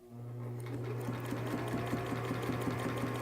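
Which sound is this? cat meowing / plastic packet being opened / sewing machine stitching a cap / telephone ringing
sewing machine stitching a cap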